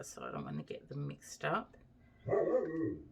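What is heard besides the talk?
dog barking at leaves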